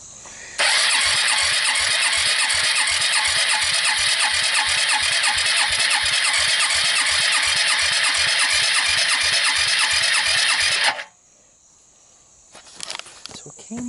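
A Suzuki KingQuad ATV's starter cranking the engine without firing during a dry compression test, a loud steady rhythmic churning of about ten seconds, then it stops abruptly, leaving quiet clicks and handling noise.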